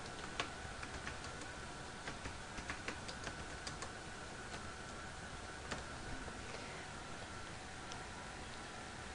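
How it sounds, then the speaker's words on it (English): Computer keyboard typing: scattered soft key clicks come in short bursts over a steady background hum, fairly faint and close, with no talking. "I'm going to type in repair holes for crown"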